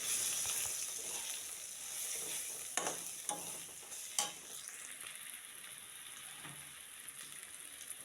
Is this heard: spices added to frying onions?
yes